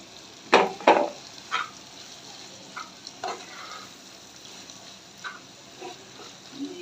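Dried lotia fish (shutki) with garlic being stirred in a frying pan, a few sharp scraping strokes at first, then softer intermittent scrapes over a low, steady sizzle.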